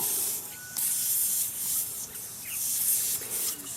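Air escapes from a slowly leaking bicycle tyre as its valve core is unscrewed, a steady high hiss that surges and fades in several bursts over a few seconds, close by with no talking.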